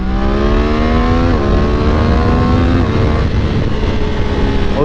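A Triumph Daytona 660 motorcycle engine pulling hard under acceleration: a loud, close, continuous drone rises steadily in pitch, dips briefly twice at gear changes, then keeps climbing.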